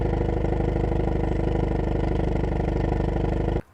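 A 2021 Hyundai Veloster N engine revs hard through its dual exhaust, a loud, close, steady buzzing drone with rapid pulsing that holds for over three seconds, then cuts off abruptly.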